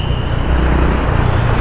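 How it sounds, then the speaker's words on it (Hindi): Steady road traffic noise at the Huda City Centre underpass, a continuous low rumble of passing cars and heavier vehicles, loud and close with no talk. "भाई साहब अनएक्सपेक्टेड है यहाँ पे तो ट्रैफिक"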